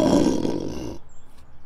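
A person snores through a tube to imitate a lion's roar: one loud, rough, rumbling growl lasting about a second, close up, then it cuts off into near silence.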